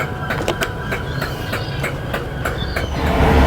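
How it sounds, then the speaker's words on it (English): A train departing Weymouth rumbles along the rails with a regular clickety-clack of wheels, the low rumble growing louder and heavier toward the end. "So I just got on my train from Weymouth, and now we'll be leaving"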